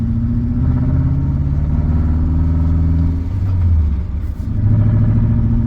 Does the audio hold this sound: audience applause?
no